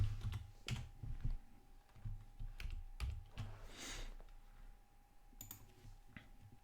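Computer keyboard typing a terminal command on an Arch Linux machine, a quick run of close, crisp key clicks at moderate pace over a faint steady hum.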